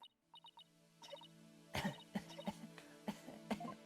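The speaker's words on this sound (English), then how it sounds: "I always seem to get the coughing fits whenever I get nervous" Short harsh bursts of a woman's coughing fit in an Ace Attorney Dual Destinies game scene, several spaced hacks over quiet game tones and beeps, fairly soft and close.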